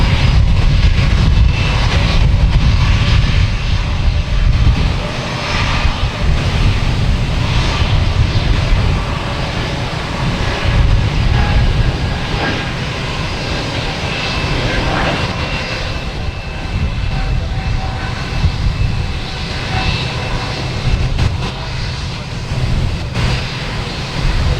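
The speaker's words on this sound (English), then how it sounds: "Next taking off is a JetBlue heading to Syracuse. A220 flight 845." A JetBlue Airbus A220 takes off at Boston Logan Airport, its jet engines a loud, steady roar with a broad rumbling low end that holds strong across the whole stretch, heard from nearby without talk.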